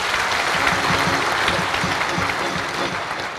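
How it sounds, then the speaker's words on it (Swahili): Audience at a Young Africans (Yanga) club general meeting applauds steadily, a dense, even wash of many hands clapping that fills the room for a few seconds without a break. "Tujipigie wote makofi."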